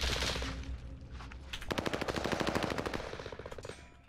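Rapid automatic gunfire in a video game, a short burst followed by a longer sustained volley of evenly spaced shots that is loud and close, with no one talking over it.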